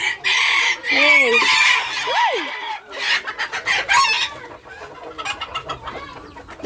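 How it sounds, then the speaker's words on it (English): Bantam chickens cluck and squawk up close, with one sharp rising squawk around the two-second mark and busy clucking continuing throughout. "So that's all our chickens."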